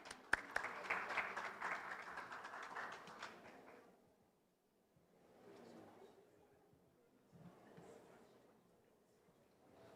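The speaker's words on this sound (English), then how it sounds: "Please give them a big applause." Audience applause at a STEM education conference, a short burst of clapping from a modest crowd that fades within a few seconds, leaving quiet room noise with soft murmurs.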